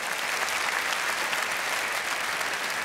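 Steady audience applause for a diver after a platform dive at a TV total tower-diving event, a broad wash of many hands clapping at an even level throughout, with no voices over it.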